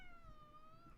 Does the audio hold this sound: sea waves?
no